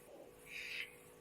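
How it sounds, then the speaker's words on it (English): A single owl-like hoot from an unfamiliar bird, a faint, fairly distant call swelling briefly in the middle of a quiet outdoor night scene, with no voices over it. "I've never heard a bird make a call like that or a sound like that."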